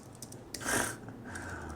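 A few soft keystrokes on a computer keyboard, quiet and close, with one brief louder burst in the middle.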